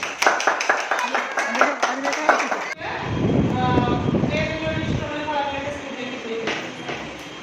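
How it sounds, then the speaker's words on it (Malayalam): Schoolchildren in a government primary school classroom clap together for a teacher in a quick, rhythmic burst of about a dozen claps. The clapping stops abruptly and voices begin talking. "ക്ലാപ്പ് കൊടുത്തേ."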